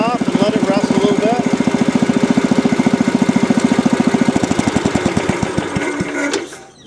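A restored 1967 Wheel Horse 857 garden tractor's small engine runs steadily up close with a fast, even chugging, then cuts off and sputters to a stop near the end.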